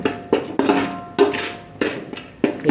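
A spoon scrapes and clatters against a pan while crab masala is stirred, giving repeated metallic knocks and scraping strokes at an uneven rhythm, close and fairly loud with no talking.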